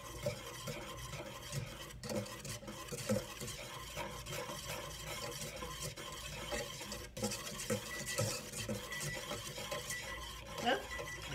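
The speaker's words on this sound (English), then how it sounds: "continuously keep stirring so it doesn't burn on the bottom" Caramel stirred continuously in a pot on the stove, producing a quiet, steady scraping and swishing of a utensil against the pot with occasional soft clinks, faint and close, with no talk.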